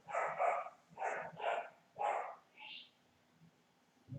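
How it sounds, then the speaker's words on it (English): A dog barks in a series of about five loud, close barks in quick pairs, followed by a short whine, with a quiet room around it. "I hope you guys are enjoying the dog barking audio."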